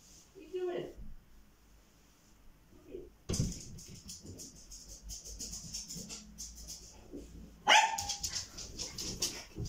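Dogs bark in a house, a few sharp barks and yips coming in bursts, some close and loud, mixed with people talking and scuffling around them.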